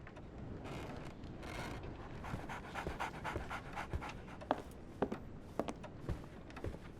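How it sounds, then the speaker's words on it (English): A dog pants rapidly and steadily up close in the Sherlock Holmes: The Awakened video game, with rhythmic breaths over light ambient noise, growing more pronounced toward the end. "So, Barnes has a dog now."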